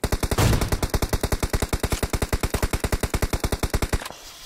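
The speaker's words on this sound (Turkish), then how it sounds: "Bu kim bot gibi sıkıyor?" PUBG Mobile gameplay brings rapid, loud automatic gunfire, a dense steady burst of about forty shots lasting around four seconds before it abruptly stops.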